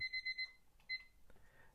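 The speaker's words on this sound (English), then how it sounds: "And there goes the timer." A kitchen-style cleaning timer alarm rings in a home, sounding four quick repeated electronic beeps, a pause, then one more beep, fairly faint against quiet room noise.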